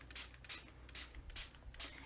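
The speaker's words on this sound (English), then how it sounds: "So I'm just going to keep spraying." Rubbing alcohol ink sprayed onto a cardboard pizza box, heard as a series of quick hissing spray bursts in a steady rhythm, close by and fairly soft.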